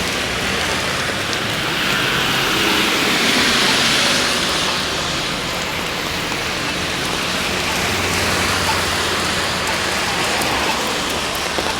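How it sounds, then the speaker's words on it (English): Heavy rain pours steadily in Halifax, a dense, loud, unbroken wash of drops close by that holds even throughout, with no voices. "Listen to that rain."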